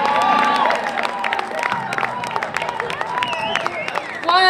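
An audience at a concert applauds and cheers. Sustained clapping runs under loud whistles and shouted cheers throughout, with a final burst of noise at the end.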